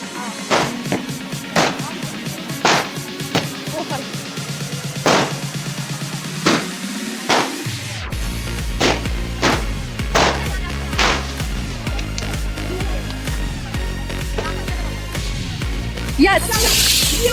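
Diwali firecrackers burst in sharp, repeated cracks and bangs, some close and loud, spaced irregularly over a constant background rumble, with people talking throughout.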